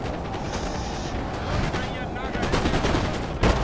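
Massed musket fire and artillery booms from a Napoleonic battle in the Napoleon Total War strategy game, crackling volleys rolling continuously with a sharper blast near the end, under a speaking voice.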